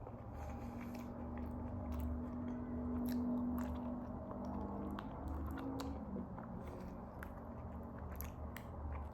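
Close, quiet chewing and biting of meat eaten with Ghanaian fufu, soft wet squishing mouth sounds repeating irregularly with no talking.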